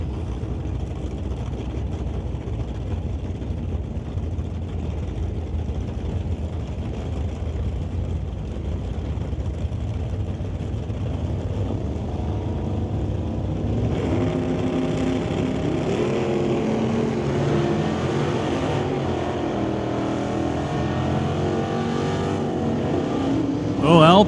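A 1968 Pontiac Firebird drag racing at Mission Raceway, its engine rumbling steadily at first, then rising into a louder revving roar with shifting pitch partway through, heard at moderate distance over crowd and track ambience.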